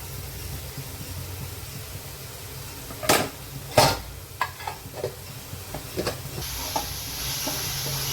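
Spiced eggplant curry stirred in a pan, a low sizzle under sharp clanks of a spoon scraping and knocking the pan, several loud strikes followed by lighter taps, close up with no voices.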